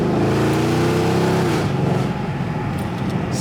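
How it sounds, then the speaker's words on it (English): A Mercedes-AMG engine revs hard close by, a deep rising roar that swells, drops off and carries on as a rough, throaty idle. "AMG sounds."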